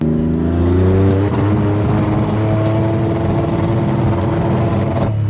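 A Porsche 911 Slantnose engine runs with its VarioCam fuse pulled, a steady, loud, close idle with a deep droning hum that holds evenly throughout.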